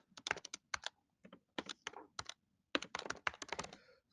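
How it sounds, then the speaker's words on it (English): Computer keyboard typing while entering a password, quiet bursts of rapid key clicks separated by short pauses, close and alone without talk. "And I probably messed up my typing there"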